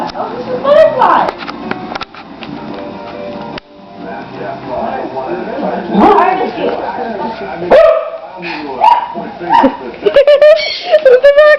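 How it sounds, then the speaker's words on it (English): A dog barks and yips repeatedly at a puppy, loud and close, with whimpering between bursts and people talking over it. "There's the Roxy bark at the dog."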